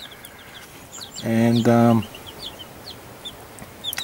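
Chickens, including young birds, in a fine-wire coop built to keep out snakes; two loud, close clucks ring out in quick succession while small birds twitter faintly around them.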